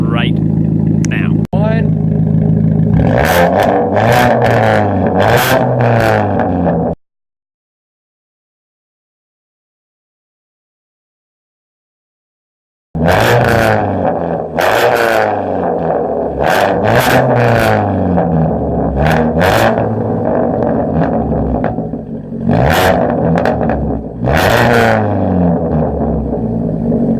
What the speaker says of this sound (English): I'm gonna go ahead and show you guys the muffler sound right now.